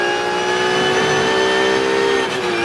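Onboard a Porsche Carrera Cup race car at Assen, the engine drones loud and steady at high revs, its pitch holding almost constant before dipping slightly near the end, with no talk over it.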